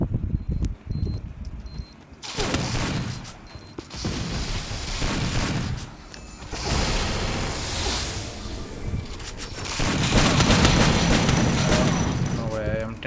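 Thrown grenades booming and bursts of gunfire during a Free Fire Clash Squad match, heavy and repeated across the whole stretch, with players talking over the action.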